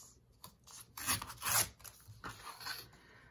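Scrap paper torn by hand for a journal shaker embellishment, a few close ripping and rasping bursts of uneven length with short pauses between them, no voices.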